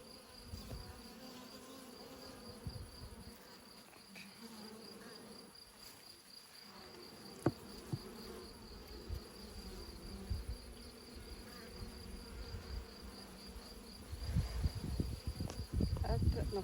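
Honey bees buzz in a constant, close hum around brood frames in an open hive. Scattered handling knocks and rustles sound through it, and they grow louder near the end.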